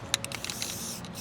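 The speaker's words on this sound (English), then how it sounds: "I'm spending my time spray painting cardboard right now" A spray paint can hisses onto cardboard in a few quick, close, soft bursts that run over roughly one second, with no talking.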